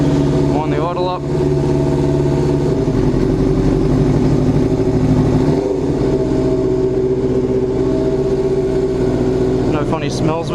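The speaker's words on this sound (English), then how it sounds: "Wind the idle up." A motorcycle engine fitted with Keihin CVK30 carburetors runs with its idle wound up, a steady close mechanical drone with short rising revs near the start and end.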